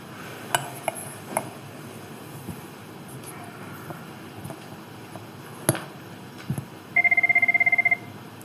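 An incoming call rings through in a county commissioners' meeting room: a single short electronic ring burst, a rapid pulsing tone lasting about a second, heard over quiet room ambience with a few scattered clicks and bumps.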